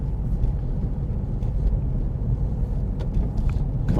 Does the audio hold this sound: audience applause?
no